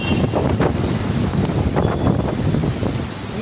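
Strong wind and rain in Velachery buffet the microphone in loud, gusting rumbles with a steady rushing wash underneath, continuous and close.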